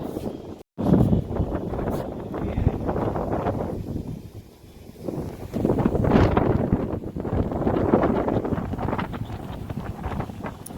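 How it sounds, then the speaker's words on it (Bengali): Strong wind roars and buffets the microphone on a rooftop before a storm, in surging gusts rising and falling over several seconds. "হাওয়ার আওয়াজ শুনেছো?"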